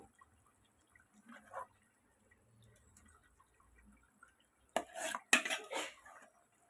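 After several quiet seconds with faint clinks, water splashes into a pot of dry fish and gongura curry in a brief, noisy rush lasting about a second.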